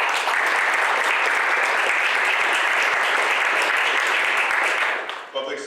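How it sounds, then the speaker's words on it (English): Steady, full applause from an audience at a fire communications center badge and service awards presentation, loud and continuous before trailing off abruptly at the end. "if we can give them a round of applause."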